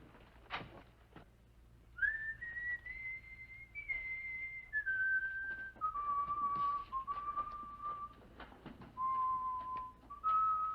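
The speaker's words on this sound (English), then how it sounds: "Will you stop that infernal whistling?" A person whistles a wandering tune in clear sustained notes, alone in a quiet room, with faint shuffling noises beneath.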